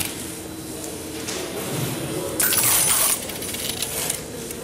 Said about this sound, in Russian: Поэтому теперь, как в аэропорту, сдаем сумку на ленту и достаем из карманов мелочь.